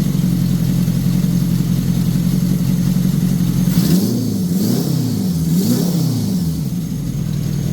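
A homemade car's engine, apparently carbureted, idles with a steady rumble, then revs up and down several times in quick rising and falling swells, loud and close with no talking.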